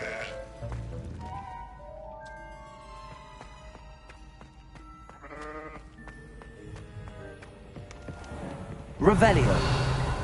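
Sheep bleat repeatedly in a Hogwarts video game, with wavering cries layered over game music and dialogue, ending in a sudden loud crash-like burst.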